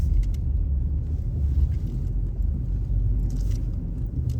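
A vehicle drives out onto a frozen lake in winter, giving a steady, loud, close engine rumble with low road-like droning that holds throughout, with no talk.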